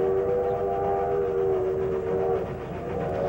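A train at Muskoka carrying holiday crowds toward the wharf and steamboat cruises, heard as a steady sustained tonal horn or whistle over a continuous rumble, fairly loud and unbroken for several seconds, with no voices.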